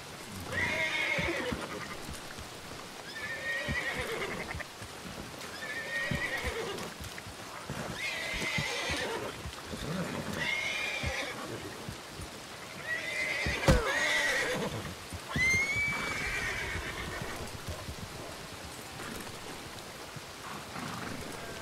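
A horse in Red Dead Redemption 2 gives a repeated series of loud, close whinnies and snorts at roughly regular intervals, with hoof clops and rain in the background.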